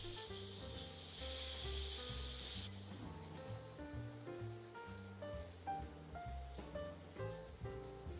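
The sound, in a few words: tofu frying in oil in a pan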